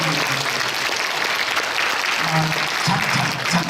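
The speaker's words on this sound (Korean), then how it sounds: "큰 박수를 부탁드립니다" Sustained applause from the audience at a public current-affairs lecture, a dense, steady wash of clapping that fills the room for several seconds, with faint voices mixed underneath.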